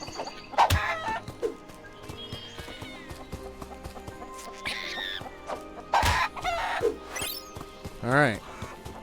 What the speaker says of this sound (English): So I got the chickens.